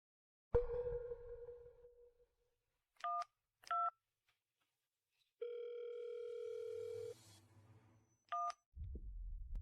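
Telephone dialing tones sound in a quiet room: a sustained tone fades out, then short separate keypad beeps, a longer steady tone and one more beep, all clear and close with no talk.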